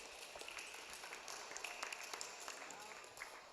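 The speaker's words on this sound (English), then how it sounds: "let's get a round of applause," Steady applause from a crowd at a national doubles championship awards ceremony, dense clapping that holds at an even level throughout without breaks.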